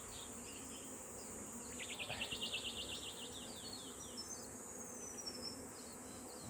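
Faint, steady buzzing of many honeybees around a hive, a continuous hum with occasional louder passes nearby and light chirps in the background.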